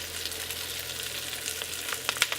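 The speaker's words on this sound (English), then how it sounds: "I'm adding the garlic now because I didn't want it to burn" Garlic sizzling in a pan with thyme, a soft, steady crackle of frying with a few sharper pops near the end, close and fairly quiet with no voices.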